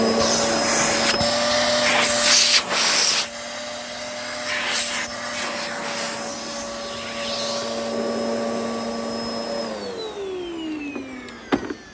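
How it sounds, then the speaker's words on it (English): A Hoover Hurricane 2000 watt bagless PETS upright vacuum cleaner runs steadily with a loud whining motor hum, brush scraping over carpet pile, then the motor winds down near the end. "So that's the Hoover Hurricane 2000 watt bagless PETS upright vacuum cleaner"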